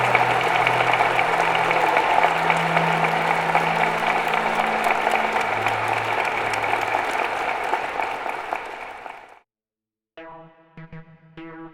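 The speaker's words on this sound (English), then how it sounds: "let's have a round of applause for General Alexander." Large conference audience applauding at the end of a DEF CON 20 session, a dense sustained roar of clapping with a low hum beneath that fades out abruptly, followed after a short silence by a few faint musical tones.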